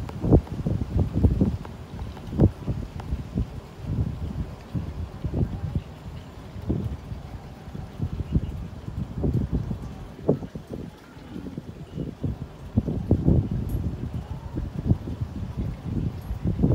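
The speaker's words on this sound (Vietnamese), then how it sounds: "rồi gió thổi to lắm" Strong wind gusts across a river in a fishing setting before rain, buffeting the microphone with a steady, rough roar and repeated low thumps for about seventeen seconds, with no talking.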